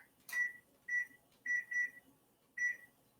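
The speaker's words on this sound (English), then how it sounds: "you use the microwave for the timer instead of the oven" A microwave oven's timer beeps several times in short, clear tones at an uneven pace, fairly faint against a quiet room.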